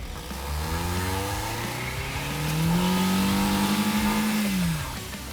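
A boat car doing burnouts on new tires, its engine revving up into a long sustained high wail before dropping off, loud and close with a rough roar underneath.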